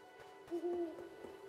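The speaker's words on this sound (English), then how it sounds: "There's an owl just hanging out up there." An owl in the video game Death's Door gives a soft, low two-part hoot, brief and faint over a quiet background hum.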